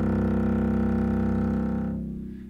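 A granular synthesis texture called a grain plays as a steady, buzzy harmonic tone with a fast rhythmic flutter, loud and sustained before fading at the end, with no voices.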